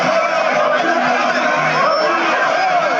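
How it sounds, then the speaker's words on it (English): An excited crowd of traders at Alaba International Market in Lagos keeps up a dense, steady roar of overlapping voices, chatter and occasional whoops, close and continuous throughout. "Security operatives attempt to contain the excited crowd who were on hand to welcome him and his team."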